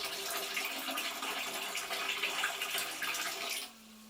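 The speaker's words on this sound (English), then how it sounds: "pour some very hot water into the loo so it warms the water up" Very hot water pours steadily into a porcelain toilet bowl at home: a continuous, splashing rush of liquid that stops abruptly near the end, leaving a faint hum.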